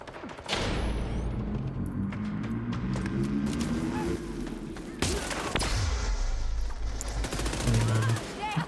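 Rapid video game gunfire rattles continuously in loud overlapping bursts, with heavier thumping impacts near the five-second mark and a speaker's voice faintly mixed underneath.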